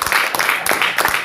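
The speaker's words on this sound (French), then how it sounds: "Applaudissons pour le frère ici." An audience at a sermon gathering claps for a man in a quick, regular rhythm of sharp claps over a dense crowd background.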